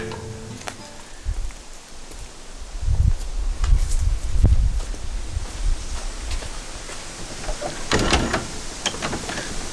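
Someone rattles and pushes the locked main door of an abandoned 1906 villa, with a few dull knocks and scrapes over outdoor rustling and wind.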